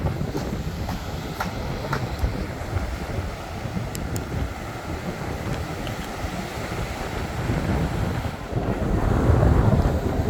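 Waves wash against and over a small boat at sea in a continuous churning rush, with wind buffeting the microphone and a louder surge of water near the end.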